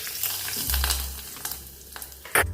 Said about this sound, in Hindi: और इसमें डाल देंगे तड़का।